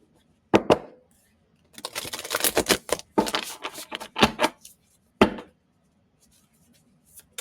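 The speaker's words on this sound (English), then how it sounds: "First, I'm going to shuffle because it said shuffle." Oracle cards riffle and snap in quick bursts, several rapid shuffles separated by short pauses, close and crisp.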